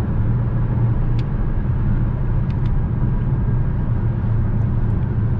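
A car engine under throttle from inside the cabin gives a loud, steady low rumble that holds at a constant level with no clear rise or fall.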